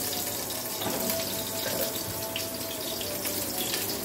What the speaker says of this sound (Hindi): अब मैं इसमें थोड़ा सा आधा गिलास पानी डाल दूँगी